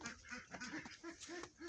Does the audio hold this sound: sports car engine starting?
no